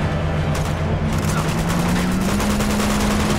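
Dense continuous gunfire from Uncharted 2: Among Thieves, a rapid rattling barrage layered over a steady low hum, loud and close throughout with no pauses.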